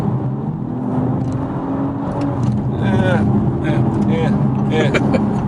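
A 2018 Audi S5 Sportback accelerates under load, its engine and exhaust making a smooth, fairly refined rising drone heard from inside the cabin, with people talking over it.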